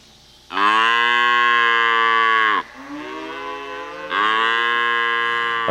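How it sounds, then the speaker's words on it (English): A black cow on a ranch calls out for its calf in two long, loud, close moos, with a short quieter lowing between them. "We have one black cow comes back looking for the calf, looking for the baby."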